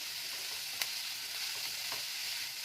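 Salted chicken filling sizzles steadily in a hot pan while a utensil stirs it, adding a couple of faint scrapes over the constant close frying hiss.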